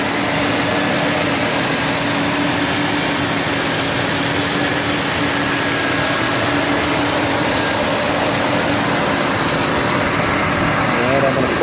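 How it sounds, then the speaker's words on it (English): A Mercedes 560SEL engine runs at a steady idle, a loud continuous hum with a faint whine on top, while a person talks over it at times. "So as you can see, the engine runs beautifully."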